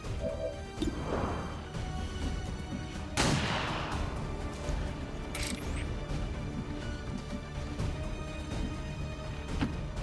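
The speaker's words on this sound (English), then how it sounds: "If we are careful with our shots, we will prevail." Gunfire in the XCOM 2 video game, two sharp loud shots standing out over a dense, busy game soundscape, with no speech.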